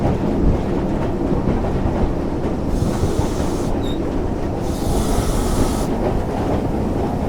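Steam locomotive coasting downhill on the North Yorkshire Moors Railway toward Whitby, heard from the footplate as a steady loud rumble of wheels and rails with rushing air, no exhaust beats, and brief high squeals.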